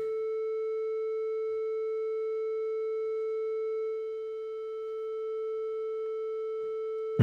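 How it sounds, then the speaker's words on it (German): A synthesizer holds a pure, steady sine tone at concert pitch A for about seven seconds, clean and unwavering, then cuts off with a faint click at the end. "ich drücke jetzt mal den Kammerton, den A-Ton"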